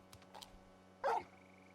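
Torgal, the large dog in Final Fantasy XVI, gives a single loud, short bark after a couple of faint soft yips, set against a low, quiet background hum.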